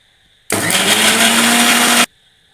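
A kitchen mixer grinder whirs in one loud, close burst of about one and a half seconds. It is grinding urad dal and coconut for pirandai thuvaiyal chutney, with quiet before and after.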